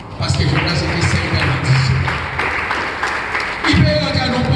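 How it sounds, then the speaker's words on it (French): A church congregation claps together during a sermon, a dense, continuous wash of applause with a voice speaking over it throughout. "Applaudissez Jésus"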